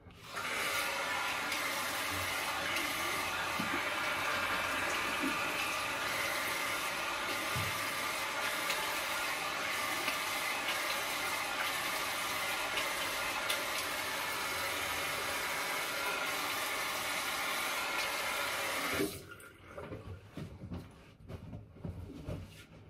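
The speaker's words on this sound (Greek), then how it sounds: "Κάτσε να ρίξουμε εδώ καυτό νερό." Hot water from a tap rinsing a Razorock German 37 slant safety razor with a Rapira Swedish Supersteel blade, a steady close rushing stream that runs for about nineteen seconds before cutting off to light dripping and handling noises.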